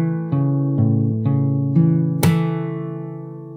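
Fingerstyle acoustic guitar plays a passage: five or six plucked notes and chords in an even rhythm, ending on a brighter struck chord that rings out, close and alone.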